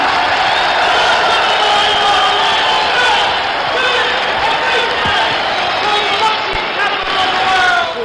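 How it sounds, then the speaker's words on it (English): Arena crowd at the Muhammad Ali versus George Chuvalo rematch in Vancouver, a boxing match, cheering and clapping in a sustained roar with scattered whoops and a few sharp knocks, while an announcer's amplified voice carries over it. "How about a great round of applause for two great champions?"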